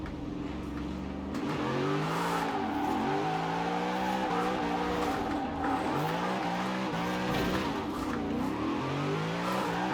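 Car drifting in Forza Horizon 4 during an American automakers challenge, its engine revving and sliding continuously, with sweeping pitch swings and tire squeal running through the whole stretch at a steady, loud level.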